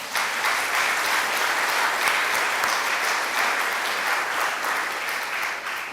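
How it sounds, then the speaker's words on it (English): A ceremony crowd gives a steady round of applause for absent guests at a Presidents' Day event, dense and even throughout, with no talking over it. "give them a little round of applause"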